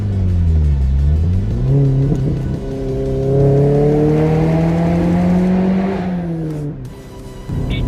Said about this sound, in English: Tone of the exhaust, me gusta. It's a nice aggressive sound